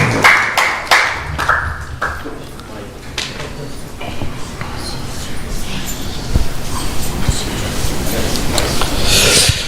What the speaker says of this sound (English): please give another big round of applause